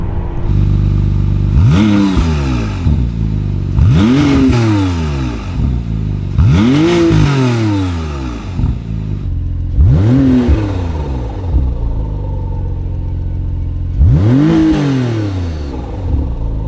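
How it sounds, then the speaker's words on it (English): A McLaren Artura's twin-turbocharged 120-degree V6 engine heard from inside while driving, with five rising and falling rev sweeps as it accelerates through gears, over a steady road rumble. "Now it's twin turbocharged 120-degree V6. Really great engine, but it definitely lacks something in the sound"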